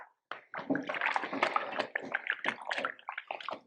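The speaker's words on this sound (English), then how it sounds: "So I'll just wash my hands and then we can plate up." Tap water running in a kitchen sink as hands are washed during a cooking class, a soft continuous splashing stream with brief uneven sloshes, close by and moderately quiet.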